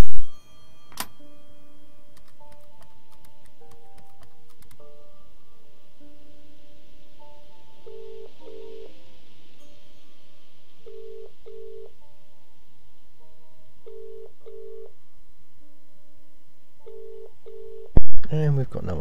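In the game Contradiction, a phone box telephone is dialed: a click, then a long quiet line hum with a series of short tones in small clusters, and a louder clatter at the end.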